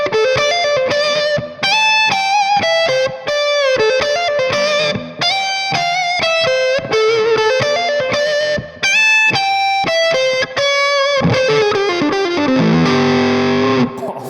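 A vintage 1961 Gibson ES-345 electric guitar on its bridge pickup, pushed through a booster with the tone rolled down, plays a sustained, distorted lead with singing held notes and bends, loud and up close, no talking.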